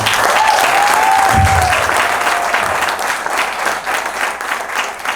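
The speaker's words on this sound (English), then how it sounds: "let's give him a round of applause" Loud audience applause for the performer Boogie Frantick fills the space, steady and dense for about three seconds before thinning out, with a brief whistle or cheer early on.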